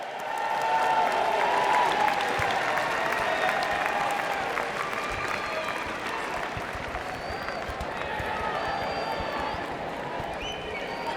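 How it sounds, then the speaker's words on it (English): A graduation audience applauds in a hall, with sustained clapping from a large crowd that starts strong and slowly thins over about ten seconds. "Give them a round of applause for all of their help"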